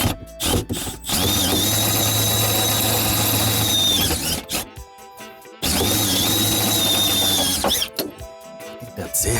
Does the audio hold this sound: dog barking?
no